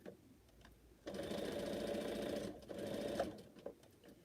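A sewing machine stitches a quilt in a close, steady run of rapid mechanical whirring for a couple of seconds, framed by quieter handling clicks before and after.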